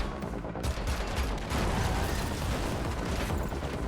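Dense, continuous gunfire from shooting at targets in the Xbox Series X Matrix Awakens Unreal Engine 5 demo: loud, overlapping shots and blasts that run without pause and dominate the sound.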